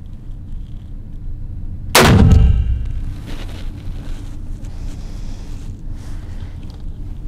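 A single loud .460 caliber gunshot fired indoors at the Taurus firearms factory, a sharp blast at about two seconds followed by a booming decay and reverberation over steady background noise.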